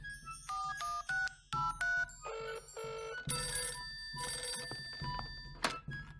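A cartoon telephone rings in a bright electronic warble, repeating in short bursts throughout, loud and close with no talking over it.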